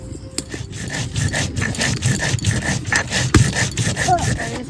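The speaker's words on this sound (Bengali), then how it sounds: "আদা রসুন একসঙ্গে বেটে নেব লঙ্কা কাঁচা লঙ্কা একসঙ্গে বেটে নেবো" Ginger, garlic and green chilies ground together into a paste, likely on a grinding stone, for a home-cooked chicken biryani; a steady, rough scraping and rubbing continues throughout, close and fairly loud.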